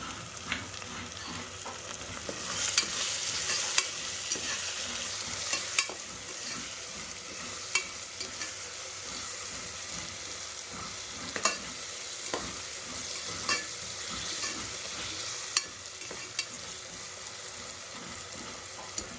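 Tomatoes with salt sizzle and fry in a pan for ghee rice, a constant crackling hiss broken by occasional sharp clicks of stirring.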